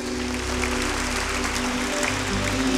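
A church congregation claps for God during a worship service, a steady wash of applause with sustained keyboard or organ tones underneath.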